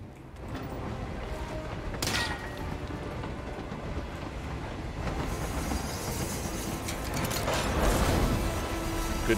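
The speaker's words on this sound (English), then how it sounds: "Goodbye, train." Train rolling past in the video game Hitman 3, a continuous rumble of wheels and rattling carriages with metallic screeching hits, swelling louder toward the end.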